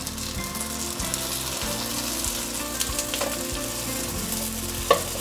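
Shiitake mushroom and sweet potato pieces pan-frying in warm oil, a close, steady and fairly loud sizzle that carries on evenly throughout, with a faint clink near the end.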